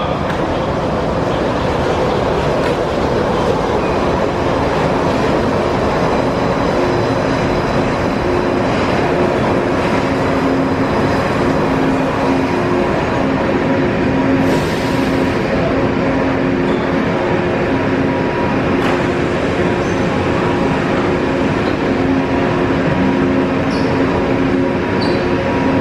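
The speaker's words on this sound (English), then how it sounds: "Alright, everybody, here's your next monorail, monorail orange." A Disneyland monorail runs with a steady, loud rumble and whir that holds for the whole stretch, with faint background noise and no clear talk.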